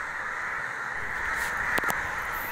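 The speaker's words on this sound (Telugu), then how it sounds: "ఇక్కడ మీరు గమనించారా కొన్ని వేల కాకులు" Thousands of crows caw in trees, their calls blending into a dense, steady distant chorus with a couple of sharper nearer caws standing out.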